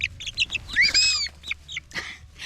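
Pet hens cluck and chatter close up in a short burst of varied calls, including one louder drawn-out squawk in the middle, with no human voices present.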